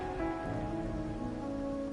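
Steady rain patters on surfaces in a Wuthering Waves game scene, an even, close hiss with no voices.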